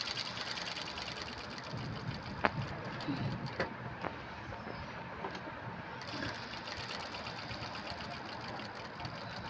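A sewing machine runs a double line of stitching on a purse, making a quiet, continuous mechanical whir with a few faint clicks throughout.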